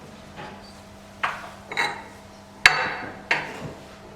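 A wood lathe being locked so it cannot turn, with a few sharp metallic clicks and knocks spaced over a few seconds, close and moderately loud over a low steady hum.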